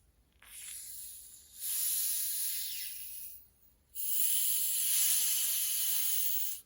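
Pressurised gas hisses out of a homebrew makgeolli Korean rice wine bottle as the cap is eased open, in two long sustained bursts separated by a short pause, close and steady.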